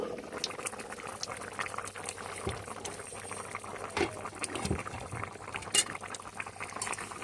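Homemade chicken and potato curry bubbles under a lid in a pot, a low, steady simmer of soft pops and gurgles with occasional louder blips, fairly quiet throughout.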